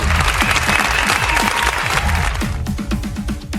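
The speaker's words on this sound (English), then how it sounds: "Make some noise for Bray Hood." Loud crowd applause with dense clapping and some cheering, sustained throughout and easing slightly toward the end.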